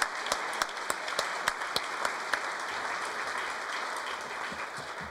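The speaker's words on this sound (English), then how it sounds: "Let's give him another round of applause." Audience at a city council meeting breaking into a round of applause, dense crowd clapping with a few sharper individual claps standing out early, filling the room steadily before starting to ease off near the end.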